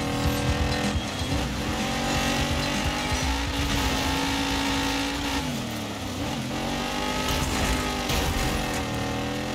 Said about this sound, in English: Oh, come on, I'm trying to drift here.